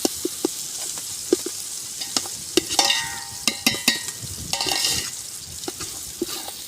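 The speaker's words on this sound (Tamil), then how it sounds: "வெங்காயம் தக்காளி எப்படி வதங்கி இருக்கு அப்படிங்கிறத பாருங்க" Onions and tomatoes sauté in a pan over high heat for an oyster curry, a steady sizzle broken by sharp clinks and scrapes of a stirring utensil against the pan, close by with no talking.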